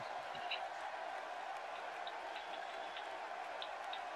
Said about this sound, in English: what a hell of an applause he has earned